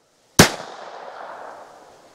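A single sharp gunshot from a .25 Auto pistol during an outdoor ammo test, loud and close, its crack followed by a long fading echo after a moment of silence.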